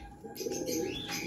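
Racing pigeons cooing at their home loft, soft and fairly close, with a short burst of low coos and faint chirps over quiet background.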